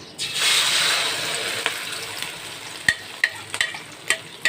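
Steady sizzling of omelette with basil and fermented pork frying in a hot pan, with a few sharp clinks and taps of a utensil toward the end.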